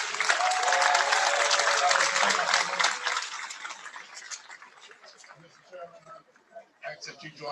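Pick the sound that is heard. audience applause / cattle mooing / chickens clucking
audience applause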